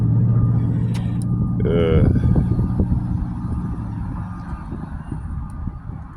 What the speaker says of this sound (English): Oh, damn, there go the bus.